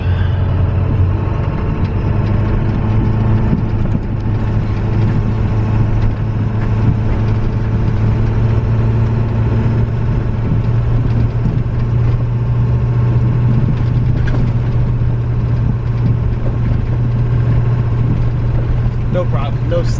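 Ford Excursion engine droning steadily as the SUV climbs an unplowed snowy road in four-wheel drive, a constant low hum with faint crunching throughout and no talk.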